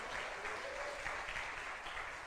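A church congregation claps together in a dense, steady burst of applause that fills the room evenly for a couple of seconds with no voices on top.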